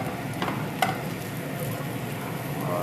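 Masala-stuffed okra (bhindi) is stirred in a pan, a steady close sizzle of frying with a few sharp scrapes and clinks of the spoon against the pan, and no talk.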